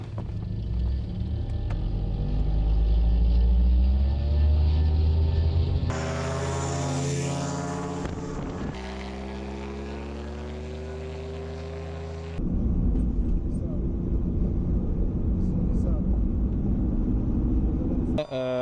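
A military drone takes off with a loud propeller drone and engine rumble whose pitch rises and shifts as it climbs away, heard steady and close throughout.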